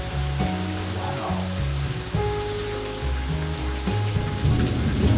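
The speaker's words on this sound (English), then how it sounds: "Yeah, so this rain is crazy." Heavy tropical storm rain pours steadily, a dense roaring wash with low rumbling thunder swelling beneath it, close and continuous throughout.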